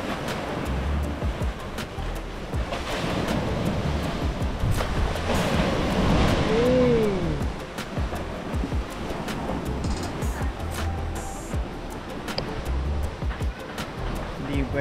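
Big waves surge and crash in a continuous rumbling wash, swelling louder midway, with wind buffeting the microphone and a brief voice-like tone.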